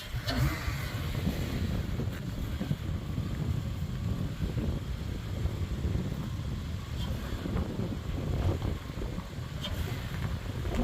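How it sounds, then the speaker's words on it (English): Gusty wind buffets outdoors on a blustery day, a loud continuous rumbling roar with uneven swells and no voices. "It is a windy day."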